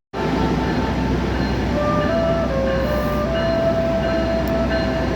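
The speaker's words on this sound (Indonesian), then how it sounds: "Masuk kereta api Brawijaya, tujuan akhir stasiun Malang." The Brawijaya passenger train from Gambir bound for Malang arriving at Semarang Tawang station, a steady loud rumble of railcars rolling past with faint squealing tones, close and continuous.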